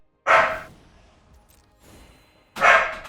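A dog barks sharply twice, close and loud, with a faint softer yelp between, in an otherwise quiet room.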